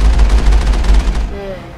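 Rapid gunfire shooting at a big turret in the Mass Effect video game, a dense loud burst of shots that fades into a brief electronic tone at the end.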